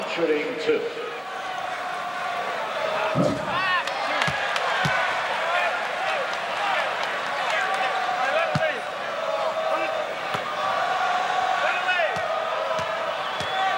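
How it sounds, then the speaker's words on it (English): Madison Square Garden crowd at a 1986 Knicks–Bulls basketball game, a dense roar of fans yelling the name Michael at Jordan, with sharp shouts and occasional slaps of the ball over continuous crowd noise. "It may sound like the fans are taunting Jordan, yelling Michael"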